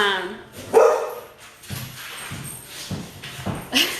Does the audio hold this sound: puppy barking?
yes